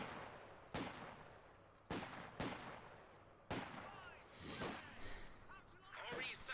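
A machine gun in the Company of Heroes 2 video game fires several sharp reports at uneven intervals amid battle noise, with a voice talking over it.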